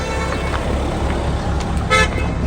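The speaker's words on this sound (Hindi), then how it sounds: "MG हेक्टर इसके अंदर आया है, हवा कम है यार। वो अलार्म दे रहा है उसमें।" A low-tyre-pressure warning alarm sounds inside an MG Hector SUV during a mountain road trip, a short electronic beep rising once near the end over steady engine and road rumble.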